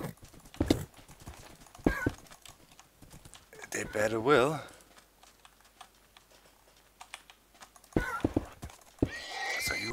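Horses in a Minecraft survival-games match give clip-clopping hoof steps and a loud whinny, mixed with rapid keyboard clicking while a player talks over the game.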